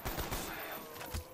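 Rapid bursts of automatic gunfire from the Call of Duty Zombies video game, loud and close, with fast repeated shots through the short stretch and no talk over them.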